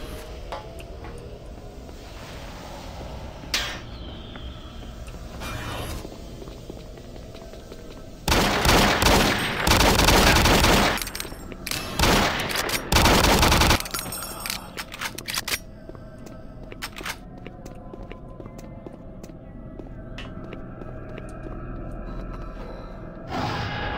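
Rapid-fire machinegun pistol shots in the Doom 3 video game, loud dense bursts of gunfire clustered in the middle, with a few scattered shots and quieter game ambience around them.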